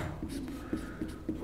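A physics formula is written on a board: quiet, intermittent scratchy strokes with small taps, a few marks per second, close by with no talking.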